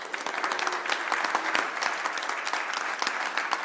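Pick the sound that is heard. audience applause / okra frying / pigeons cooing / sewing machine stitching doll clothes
audience applause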